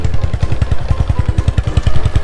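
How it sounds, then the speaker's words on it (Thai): A motorcycle with a Dahwan X1-style exhaust pipe idles up close, its low exhaust pulses thumping in a steady, even rhythm with no talking. "อันนี้คือเสียงข้อรอบเดินเบานะครับ"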